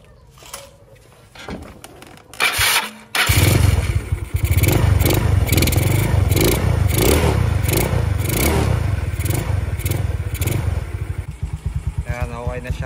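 A Yamaha Mio Sporty motorcycle fitted with a new 28 mm carburetor, throttle cable and throttle grip starts up after a few clanks, then idles loudly nearby with repeated quick throttle revs; someone speaks briefly over it.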